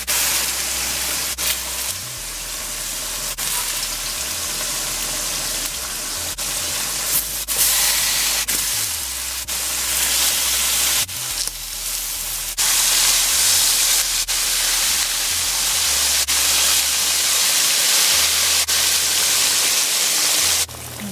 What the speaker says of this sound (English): the shark is finished frying